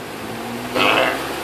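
Electric fan switched on close by, a soft steady rush of blowing air that swells briefly partway through and then settles into a constant hum.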